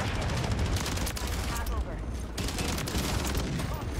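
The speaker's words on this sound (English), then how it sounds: "I can hear them shooting" Rapid, continuous gunfire from the Call of Duty Modern Warfare 3 video game crackles in loud overlapping bursts with a short lull partway through, with no clear speech.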